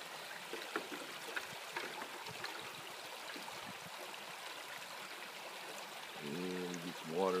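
Water from a stream trickles and gurgles steadily as it fills a bucket, with a brief voice near the end.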